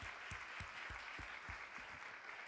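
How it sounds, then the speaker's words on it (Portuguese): Church congregation clapping in a steady, continuous wash of applause, with a few sharper claps standing out close by. "Dê um aplauso ao Senhor Jesus por isso"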